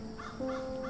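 A crow caws in the video game Grim Legends 3: The Dark City, two or three harsh, rough calls in quick succession over a steady background drone, moderately loud.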